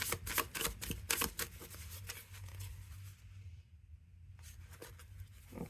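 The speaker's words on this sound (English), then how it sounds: "when I riffle shuffle, it's not too bad, but there is a little bit of resistance" Tarot cards riffle-shuffled with slight resistance, giving a burst of rapid, close crisp flutters in the first few seconds that fade into quieter rustling and handling.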